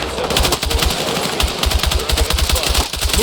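Rapid automatic gunfire in the video game Battlefield 6, dense bursts of loud shots running continuously throughout with no talk.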